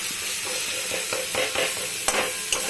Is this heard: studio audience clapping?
no